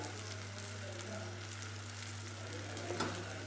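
Chilli powder and garam masala sautéing in oil for prawn biryani, a faint steady sizzle with a low hum running underneath and a brief stir near the end.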